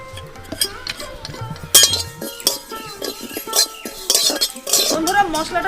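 Cumin, radhuni and mustard seeds dry-roasting in a pan, with a utensil clinking and scraping against the metal in quick, uneven bursts, close and fairly loud, without talk.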